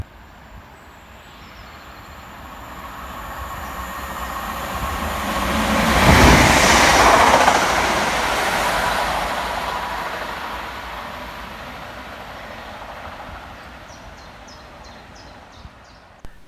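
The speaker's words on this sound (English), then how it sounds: "Passing fast next for Northern is 323229, working 2 Alpha 95 from Manchester Piccadilly through to Crewe." A Northern Class 323 electric passenger train runs fast through Goostrey station on its way from Manchester Piccadilly to Crewe. Its roar builds steadily to a loud close peak, then fades away, with faint birdsong in the background.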